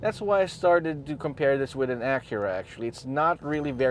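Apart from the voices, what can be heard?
No distinct noise like a dog, phone or traffic.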